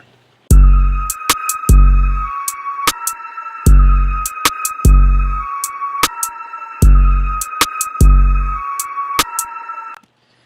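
A trap-style beat with deep 808 bass hits booming under crisp hi-hats and a high melodic synth line, loud and up close.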